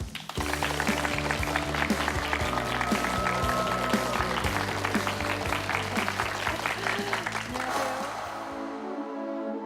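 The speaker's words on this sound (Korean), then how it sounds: "박수로 청해 듣겠습니다" An audience applauds to welcome a lecturer at a Korean televised talk, steady clapping lasting several seconds under background music that fades out at the end.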